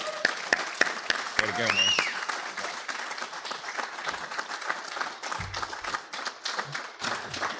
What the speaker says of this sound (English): we would just like lift him up in some clapping right now